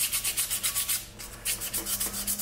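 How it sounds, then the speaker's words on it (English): Sandpaper rubs in quick, even back-and-forth strokes over the magnets of a 1961 David Bradley engine, a close, dry scratching that pauses briefly once partway through. "Take a piece of sandpaper"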